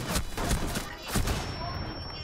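Gunfire in Rainbow Six Siege strikes a player's shield in a close firefight, a rapid burst of shots and impacts that overlaps with voices talking.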